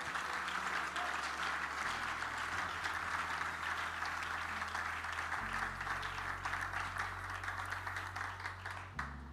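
Church congregation applauding in acclamation of the Holy Spirit, a steady dense wash of clapping from many hands over a low sustained organ or keyboard drone, continuous for several seconds.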